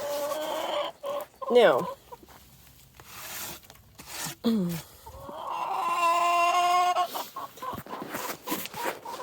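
Chickens cluck and call inside a backyard coop, the clucks close and loud in bursts with a drawn-out tonal squawk near the middle; a person speaks briefly at the start.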